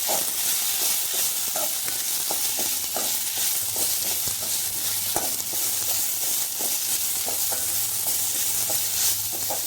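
Leaves being sautéed in a pan for a chutney sizzle and hiss loudly and steadily, with repeated scraping stir strokes clattering over the frying throughout, close and without speech.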